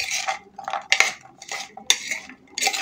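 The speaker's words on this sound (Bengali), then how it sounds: "এবার এই বাদামের সঙ্গে মশলাগুলোকে আমি খুব ভালো করে একটু মিশিয়ে নেবো এরকম করে" Peanuts being mixed with spices and gram flour in a bowl, heard as a series of close, bright scraping and clinking strokes of a spoon against the bowl in an uneven rhythm, with short quiet gaps between.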